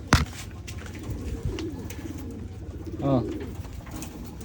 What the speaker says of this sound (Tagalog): So, papakainin ko na lang dito sa kabila mga kalapatids yan.